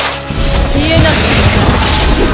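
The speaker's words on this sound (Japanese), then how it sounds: "大爆発だぜ。" A loud, dense explosion blast from the Naruto Online game bursts in almost at once and rumbles on with crashing debris and a low roar, full and close throughout.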